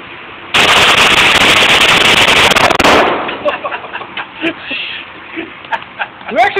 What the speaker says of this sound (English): then shooting a gun they can actually hit something with.